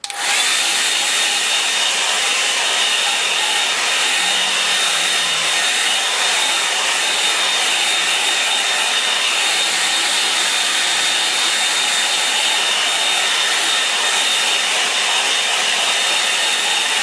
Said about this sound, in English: I'm going to dry up the hairdryer.